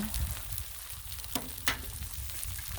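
Eggs fry on a hot Blackstone griddle with a steady, close sizzling hiss and a couple of faint pops and crackles, no voices over it.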